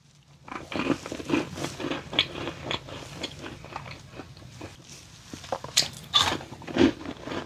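Bites and crunches into a lemon cookie dusted with powdered sugar, close and crisp, with irregular chewing crackles and a few sharper snaps toward the end, no talking.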